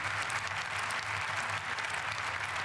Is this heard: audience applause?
yes